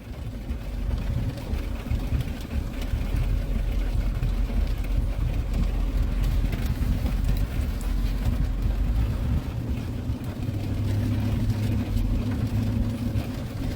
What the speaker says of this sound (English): It's raining, my people, so I'm driving.